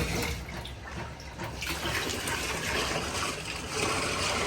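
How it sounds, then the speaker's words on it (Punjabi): Water from a motor pump gushes out at high pressure, making a continuous loud, hissing rush close by that runs steadily through the whole stretch. "ਨਹੀਂ ਤਾਂ ਬਹੁਤ ਪ੍ਰੈਸ਼ਰ ਦਾ ਪਾਣੀ ਆਉਂਦਾ"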